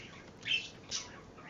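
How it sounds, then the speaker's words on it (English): Pet birds squawk and chirp indoors in two short, shrill bursts over a quiet background, with no voices. "you could probably hear like double my birds because they're yapping in this video and in this recording"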